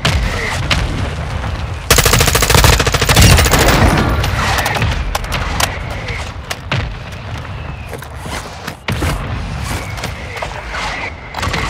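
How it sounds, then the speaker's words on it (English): Mortar strike explosions in Call of Duty Warzone 2 make a loud, dense burst of rapid blasts and crackling impacts that fade into scattered booms and mechanical clatter. "Friendly mortar strike inbound."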